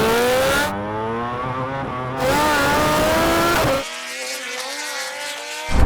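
A MotoGP bike, a Rimac Nevera and a turbo Hayabusa drag race, with loud high-pitched engine whines climbing through gear changes, an abrupt drop in sound partway through, and no talking.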